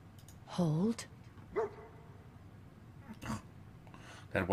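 A dog in the video game Fallout 4 gives a loud bark and a couple of shorter yips, spaced out against quiet game ambience.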